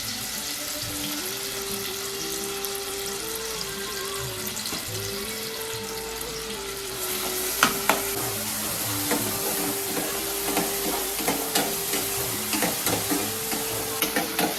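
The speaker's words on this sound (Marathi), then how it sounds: "गरम तेलामध्ये बारीक कापलेला कांदा टाकायचा आणि मिरची सुद्धा." Finely chopped onion and chilli fry in hot oil with a continuous sizzle, joined by clattering stirring strokes that come as sharp repeated knocks in the second half, while a faint tonal sound runs in the background.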